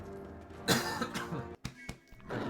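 A single brief cough from a livestreamer during a speedrun stream of Pitfall: The Lost Expedition, close to the mic and fairly quiet, set against faint background sound with no speech.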